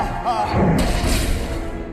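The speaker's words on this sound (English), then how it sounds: "This starts with an explosion." A deep explosion goes off in a Toy Story film scene where Zurg attacks Buzz, a heavy booming thud near the start followed by a rumbling, crackling tail that fades over the next second.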